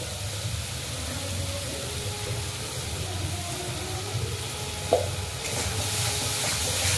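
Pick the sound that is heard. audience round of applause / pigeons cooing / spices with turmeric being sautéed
spices with turmeric being sautéed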